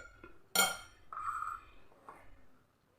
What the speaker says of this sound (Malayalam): ഉപ്പ് ചേർത്ത് നമ്മൾ ഒരു സ്പൂൺ വെച്ച് നമുക്ക് നല്ല പോലെ ഒന്ന് മിക്സ് ചെയ്ത് എടുക്കാം